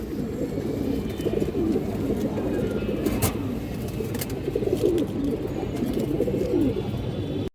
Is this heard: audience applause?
no